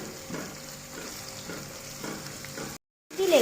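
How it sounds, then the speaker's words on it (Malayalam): Squid pieces, head and all, are stirred in a hot pan, a steady frying sizzle broken by regular soft scraping strokes. The sound cuts out briefly near the end, then returns louder. "എന്നിട്ട് നന്നായി ഇളക്കി കൊടുക്കുക."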